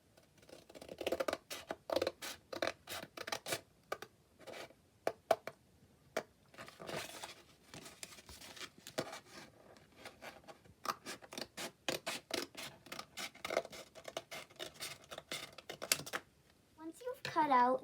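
Scissors cut a triangle out of a painted paper plate, a series of crisp snips and paper crunches in irregular bursts, close and fairly quiet, with a brief voice near the end.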